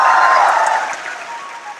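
Applause from an audience at an educational talk, a broad wash of clapping that is loud at first and then fades over about two seconds, with no voices over it.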